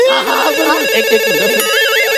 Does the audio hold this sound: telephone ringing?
yes